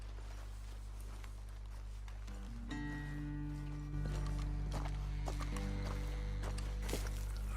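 Horses in the video game Red Dead Redemption 2 move with soft, irregular hoof clops under a low, sustained musical score that swells partway through.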